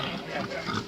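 Hungry farm pigs grunting and oinking close by in a rough, continuous chorus of snorts, with a faint voice mixed in behind them.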